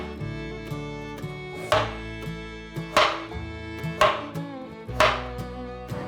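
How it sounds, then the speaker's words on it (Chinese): A knife slicing a peeled carrot on a cutting board, steady evenly spaced chops about once a second, close and clear with no talking. "把红萝卜切片"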